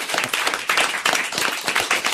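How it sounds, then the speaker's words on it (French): A television studio audience applauds steadily, dense clapping filling the whole moment without a break, loud and close. "On vous applaudit"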